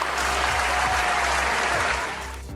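A standing ovation from an audience, dense steady clapping that fills the whole stretch close and loud, then begins to thin out at the end.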